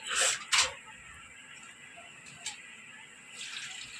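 Water poured into a pan of Odia fish curry while cooking: two quick splashing gushes at the start, then a faint steady trickle and hiss, with another small splash and a soft rush near the end.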